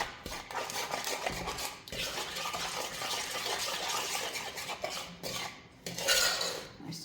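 Butter and brown sugar melting in a pan for a brown sugar icing, stirred constantly with a utensil that scrapes and clinks against the pan in a busy, continuous rhythm, close up, with no speech.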